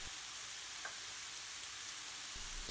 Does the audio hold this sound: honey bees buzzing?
no